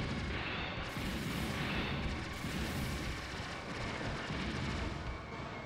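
A bomb drop in the Aero Fighters shoot-'em-up video game sets off a loud, rumbling explosion with a booming roar that swells and lingers for several seconds over constant game noise.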